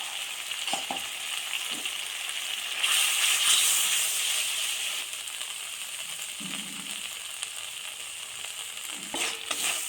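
Mustard, radhuni and ginger paste with turmeric fries in a pan for a flat bean and potato curry, giving a constant hissing sizzle with a louder burst partway through and occasional scraping stirs, close and moderate.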